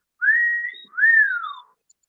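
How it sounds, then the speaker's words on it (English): A child whistles from the back seat of a car on a city street: two clear, close whistles with a rising then falling pitch, each lasting about half a second, with no talk. "what you whistling at?"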